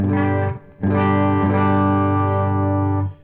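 A Les Paul electric guitar played clean through a Boss Katana amp, set for a slightly bassy Fender-style reverb tone, rings out loud: one short chord cuts off, then a second chord is struck and sustains for several seconds.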